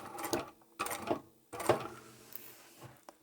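A sewing machine stitches through fabric cut from old men's ties at a 4mm stitch length, in short separate bursts of clattering mechanical whirring with pauses between.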